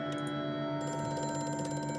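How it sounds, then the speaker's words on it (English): An old telephone rings in the horror game Amnesia: A Machine for Pigs, its bell trilling continuously over a dense tonal drone and eerie ambient hum, loud and close with no speech. "then the phone rang"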